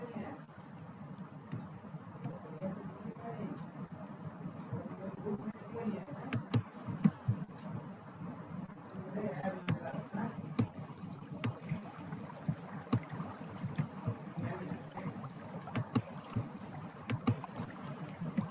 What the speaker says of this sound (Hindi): पानी की आवाज को और पानी की चुअन को अपने अंदर महसूस कीजिए।